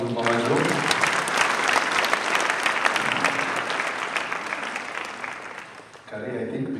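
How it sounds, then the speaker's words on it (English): An audience claps at a celebration in honor of a mother, a sustained dense round of applause that swells, then eases near the end before a voice speaks. "Let's give a big clap to Mama Jo."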